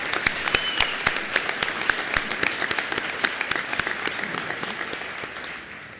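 Sustained applause from a graduation ceremony crowd honoring honor society members, many hands clapping in an even, busy patter that slowly tapers toward the end.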